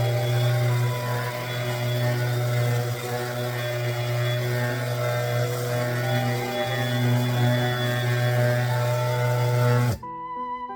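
A DeWalt orbital sander running on a piece of unsanded wood gives a steady, loud electric drone with a buzzing hum, held evenly for about ten seconds before it cuts off abruptly.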